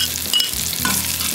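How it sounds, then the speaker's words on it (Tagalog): Garlic and onion sautéing in a pan for pinakbet, a steady close sizzle with brief stirring scrapes through the short stretch, no voices. "gusto ko talaga na mas naluluto ng kaunti sa gisa yung ating garlic and onion."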